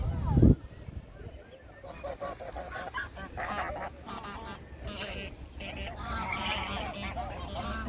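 Several geese honk repeatedly at moderate distance in a city park, their calls mixing with a nearby voice talking and a sudden bump at the start.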